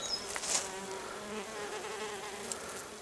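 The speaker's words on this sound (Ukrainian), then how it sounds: "тут теж працюють, працюють бджоли" A steady, dense buzz of many bees at a frameless hive, continuous throughout with no voices, the hum holding an even level close by.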